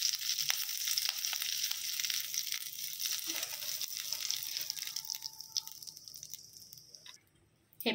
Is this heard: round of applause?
no